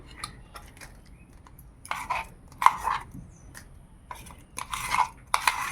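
Finely ground sesame paste scraped out and poured into a bowl for sesame bora, heard as sporadic close clinks and scrapes of a utensil against the dish between quiet pauses.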